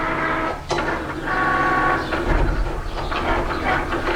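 A Cricut Explore electronic cutting machine runs steadily through a cut, giving a continuous mechanical whir with shifting tones and brief clicks throughout, fairly close and without talk.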